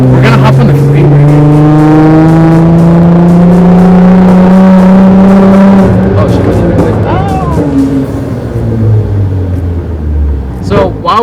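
Nissan GTR engine revving hard as the car accelerates onto the freeway, a loud rising harmonic drone that climbs, drops at a gear change and climbs again, close and continuous.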